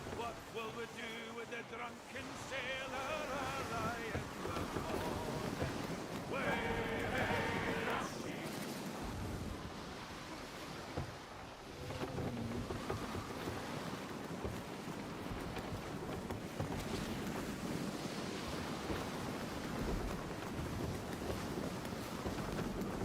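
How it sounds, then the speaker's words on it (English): Water washing over the deck of a sailing ship in the game Skull & Bones, a steady rushing wash and wind under someone talking, with surging swells of spray. "this is when I was talking about the water coming onto this ship."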